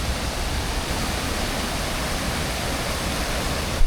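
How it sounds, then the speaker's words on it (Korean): Steady broadband rush of a waterfall in Sri Lanka, continuous and close, with no other sounds standing out. "중간에 있는 폭포인데 여기도"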